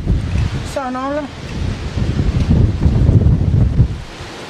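Strong wind in a violent September 2018 storm buffets the microphone in a steady low roar, with a short voice and a brief whine near the start.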